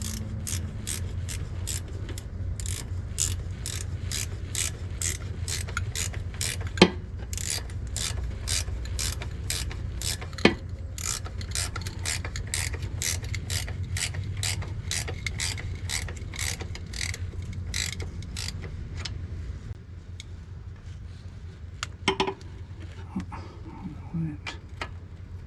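A ratchet wrench running a bolt down by hand: a fast, even train of close metallic clicks for about twenty seconds, then a pause and a few scattered clicks and knocks.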